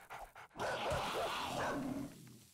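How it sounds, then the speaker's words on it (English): A dog in the 7 Days to Die survival game gives a short series of close, loud barks and yips, with a few quick sounds just before them. "Oh, you're a helpful dog."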